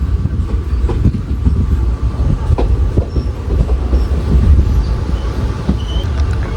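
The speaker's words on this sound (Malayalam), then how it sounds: "ഒരു മിനിറ്റ് വണ്ടി നിർത്തിയ ശേഷം നീലേശ്വരത്ത് നിന്ന് വണ്ടി ഡിപ്പാർട്ടായി." An Intercity train pulls out of Nileshwaram railway station with a loud, steady rumble, rattling carriages and a rhythmic clickety-clack of wheels, heard close up with faint squeals.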